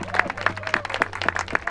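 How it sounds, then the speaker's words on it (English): A rally crowd claps and applauds for the speakers, a steady burst of hand clapping at close range with faint voices mixed in. "I want to give a round of applause for all of our speakers."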